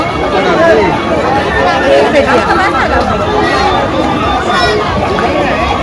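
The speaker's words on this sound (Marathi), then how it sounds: "गर्दी काय संपवतच नाही" A dense crowd fills a busy fair at Anganewadi, with continuous loud babble of many voices close around and no pause for the whole stretch.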